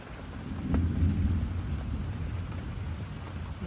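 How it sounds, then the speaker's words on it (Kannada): Steady rain pours down at night over a garden, with a low rumble of distant thunder underneath, a continuous wash of sound with no voices. "ರಾತ್ರಿ ಮಳೆ ನೋಡಿ"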